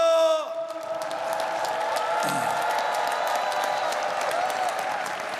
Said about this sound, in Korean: 여러분, 힘차게 박수해 주시면 고맙겠습니다.